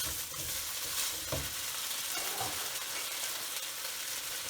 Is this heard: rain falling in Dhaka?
no